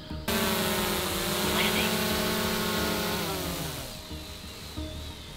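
A camera drone flying back over a volcano in Bali makes a loud, close buzzing whine of propellers, sliding down in pitch as it slows and fades near the end.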